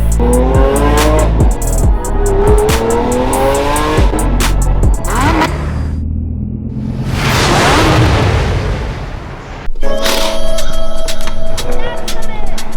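A Lamborghini Aventador SV drives off through downtown Vancouver, its loud engine revving hard with rising gear pulls and sharp crackles, fading briefly before another roaring burst close by, with people talking over parts of it.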